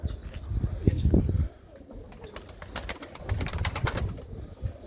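Pigeons in a coop of about 130 birds, cooing and fluttering with soft calls throughout, while people talk close by.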